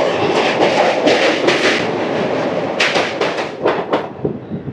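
Loud rolling rumble of the 17239 Simhadri Express on the Guntur–Visakhapatnam line heard from inside the train, with a rapid series of sharp clickety-clack wheel beats toward the end.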